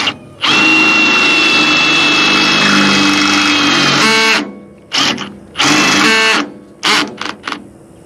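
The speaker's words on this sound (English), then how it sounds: "we got a 5/16 drill bit" A power drill with a 5/16 bit bores into thick metal while fitting a Rock Block to a John Deere: a loud, steady whining grind for about four seconds, then several shorter bursts as the trigger is pulsed.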